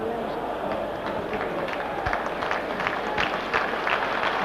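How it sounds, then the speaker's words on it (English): Stadium crowd at a Milan versus Real football match applauding the substituted player Ruud Hullet, a dense, steady wash of clapping and crowd noise from the stands with a commentator's voice talking over it. "Sympathetic applause then for Ruud Hullet"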